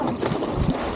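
A fishing boat out at sea off Malvan, its engine and water noise forming a steady broadband rumble with wind buffeting the microphone throughout.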